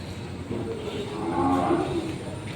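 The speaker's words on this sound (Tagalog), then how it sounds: "Ito po yung mga kalabaw na pangkatay dito" Water buffalo at a livestock auction market in Lucena, Quezon, giving a low drawn-out moo over steady crowd and yard noise, moderately distant.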